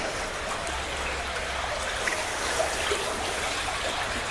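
An underground river flows through a narrow rectangular tunnel of a sewer collector, giving a steady, dense rushing and trickling wash of water that fills the space without pause.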